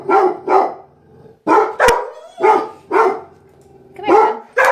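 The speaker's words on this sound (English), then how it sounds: "dogs are barking" Dogs bark loudly and close by in quick sharp bursts, mostly in pairs, with a few yips mixed in over about five seconds.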